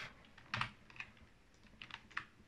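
Computer keyboard keys tapped during work in Cinema 4D, Control and arrow keys pressed in a few quiet, scattered clicks and short bursts with no talk.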